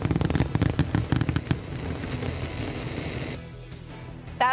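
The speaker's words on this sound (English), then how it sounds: "Thousands of people packed downtown Detroit to take in one of the best fireworks shows in the country." Fireworks show over the Detroit River in downtown Detroit: dense volleys of sharp bangs and crackles burst rapidly at first, then settle into a sustained rumbling roar with scattered pops, loud and close.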